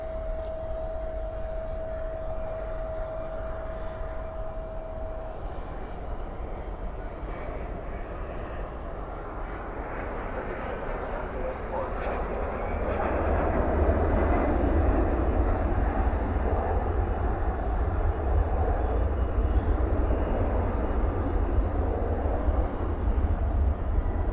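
An airliner touching down at night at Dallas Fort Worth airport with spoilers raised and thrust reversers deployed, a broad distant engine roar that swells and grows louder partway through and then holds steady.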